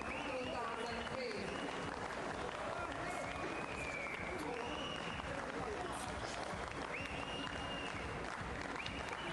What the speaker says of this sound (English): quite a lot of applause for Nahla RAMADAN